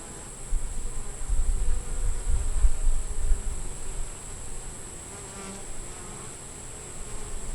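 Honey bees hum in a hive full of drones, a dense buzzing swarm that swells through the middle and then settles to a steadier drone.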